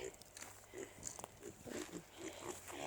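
Pigs being raised on grass and a 19% pig feed grunt repeatedly in short, low, snuffling bursts at a steady, uneven pace, fairly close, over a busy outdoor background.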